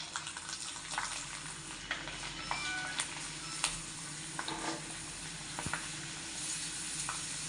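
Murukku, a South Indian fried snack, frying in hot oil makes a steady close sizzle and fizz with scattered small pops and crackles, heard alone without talk.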